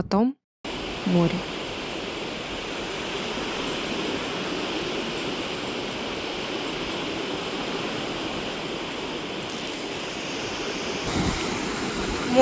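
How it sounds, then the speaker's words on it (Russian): Sea surf rolls steadily along the Kaliningrad coast in a broad, continuous wash of noise close by, with a short voice at the start and a brief disturbance near the end. "А потом море."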